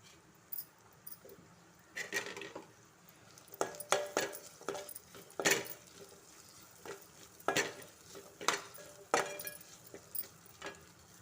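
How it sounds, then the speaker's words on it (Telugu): Sliced onions and green chillies fry quietly in a pan with a low sizzle, while a spoon scrapes and clatters against the pan in irregular strokes and no one speaks. "ఇవి పచ్చివాసన పోయినంత వరకు అయితే బాగా ఫ్రై చేసుకోవాలి"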